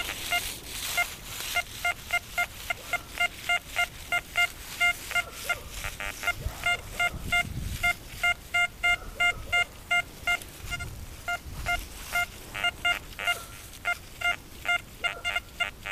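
A metal detector sweeping over buried iron gives off a stream of repeated electronic beeps and warbling tones, choppy and pulsing, with some higher tones mixed in over faint background rustle.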